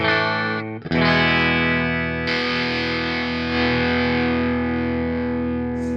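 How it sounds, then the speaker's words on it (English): Electric guitar chords through a Dumble-style overdrive pedal into a clean Jazz Chorus amplifier ring out with a gritty crunch, strummed and left to sustain with a touch of chorus shimmer, loud and close. "we'll try the jazz chorus and see what the pedal is actually doing and what it sounds like"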